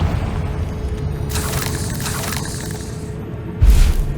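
A Confringo blasting spell in the Hogwarts Legacy video game, a broad whooshing blast followed by a short, heavy low boom near the end, heard alone over steady ambient background.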